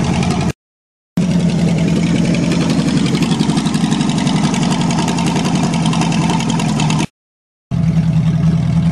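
Old loader powered by a Chevy engine, running at a steady loud idle close by, briefly cut off twice and then resuming, with no talking.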